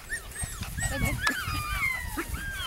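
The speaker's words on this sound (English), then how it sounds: "Attack of the puppies." A litter of male puppies whimpers and yips in overlapping high-pitched cries, with a few short barks, close by amid scuffling, and a person talks at times.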